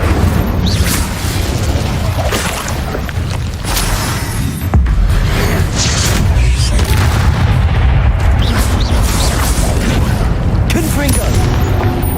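Confringo and Incendio spell blasts in the video game Hogwarts Legacy, a run of heavy booming bursts and crackling impacts in quick succession, loud and close, with someone talking over them.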